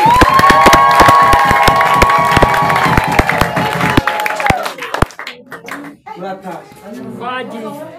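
A church congregation clapping and cheering during a sermon, rapid claps and shouts under a loud sustained voice, then fading into scattered voices.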